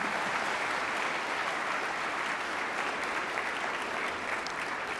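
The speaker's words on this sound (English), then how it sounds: "I'm gonna give my wife a round of applause." A crowd at a NASCAR champion's speech gives a round of applause, a sustained, even roar of many hands clapping with no pauses.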